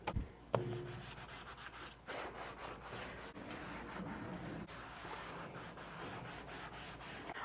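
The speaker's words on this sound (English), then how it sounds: "We're just going to use a non-abrasive scrubbing pad to just scrub here." A non-abrasive scrubbing pad with water scours the top of a new Blackstone griddle, giving close, continuous rhythmic rubbing strokes after a brief knock at the start.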